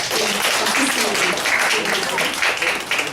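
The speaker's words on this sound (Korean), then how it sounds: "네 분을 박수로 받겠습니다." Warm, dense clapping from a Korean church congregation welcoming four people to the front, loud and unbroken throughout with a faint murmur of voices underneath.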